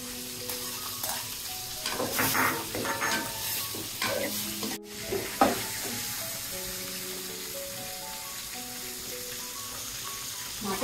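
Fish heads sizzle and fry in a pan while being stirred, a steady loud crackle with scraping and spattering at close range, no talking over it.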